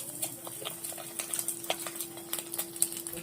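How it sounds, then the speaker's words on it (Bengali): Fish roe fritters frying in hot oil, a steady sizzle with scattered pops and crackles, with a few light scrapes of a spatula stirring the pan, close and fairly quiet. "গরম গরম বড়া ভাজা হচ্ছে"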